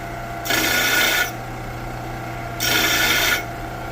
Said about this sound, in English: I'm going to hit the parting line in the sides on this disc grinder to make sure it sits square